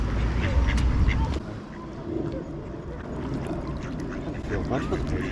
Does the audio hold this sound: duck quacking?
yes